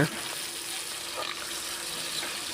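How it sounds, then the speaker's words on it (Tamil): Sliced onions frying in hot oil with cumin in a pan, a steady broadband sizzle holding evenly throughout with a soft bump near the start. "போட்டு நல்லா கிளறி விட்டுடலாங்க வெங்காயம் நல்லா வதங்கட்டும்"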